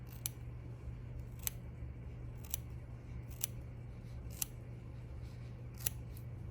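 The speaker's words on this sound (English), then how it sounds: "with our curved embroidery scissors, we're going to snip" Curved embroidery scissors snip through mink fur from an old fur coat while a teddy bear's muzzle is trimmed, six crisp separate clicks spaced about a second apart, close and clear against a low steady hum.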